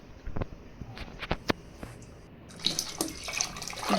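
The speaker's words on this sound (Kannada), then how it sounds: "ಬೇಳೆ ಬೇಯಿಸ್ಕೊಂಡಿರೋಂಥ ನೀರನ್ನ ಸೇರಿಸ್ತಾ ಇದ್ದೀನಿ" Water from cooked lentils is poured into a pot of boiling masala for obbattu saaru, a Karnataka lentil rasam. A soft splashing gurgle swells and thickens toward the end, close and fairly quiet.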